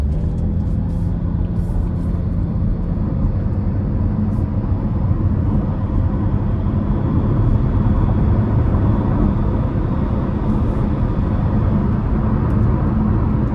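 Steady engine drone and road rumble from a 2026 Chevy Trailblazer ACTIV with the 1.3-liter turbo while driving, a broad continuous hum that holds even and loud throughout with no talking.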